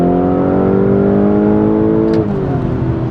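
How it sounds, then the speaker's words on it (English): Lamborghini Urus Performante engine revving hard and close, a loud steady roar that drops in pitch as it downshifts near the end, with a brief sharp pop at the shift. "You can hear those downshifts"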